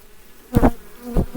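Honey bees buzzing close by at a hive, with two loud passes of buzzing over a quieter hum.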